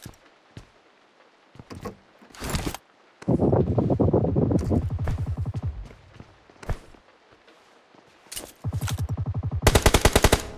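Gunfire in the PUBG battle-royale video game, with DBS and M416 weapons featured, sounding as scattered single shots followed by long loud automatic bursts, ending in a dense rapid volley, with no talk.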